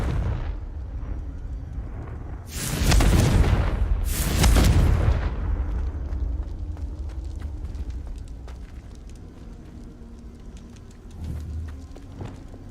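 Two loud Confringo spell explosions in the Hogwarts Legacy video game, heavy booming blasts a second or so apart, each followed by a rumbling tail, with a smaller burst later amid quieter ambient game sound.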